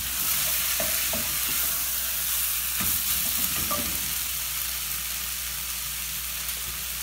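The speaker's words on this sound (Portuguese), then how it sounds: "Agora que a carne já está bem refogada, vamos colocar o tomate, um tomate picadinho." Ground meat sautéing in a pan with chopped tomato and bell pepper for a pasta sauce, a steady close sizzle with a few soft stirring scrapes and clicks.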